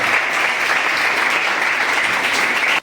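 A classroom full of students claps loudly and continuously, then the applause stops abruptly at the end.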